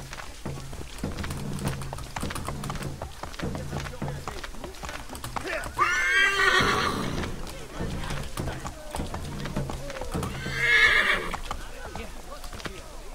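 A horse in Assassin's Creed 3 neighs twice in loud, shrill bursts over steady hoof clip-clop and game ambience, while someone comments throughout.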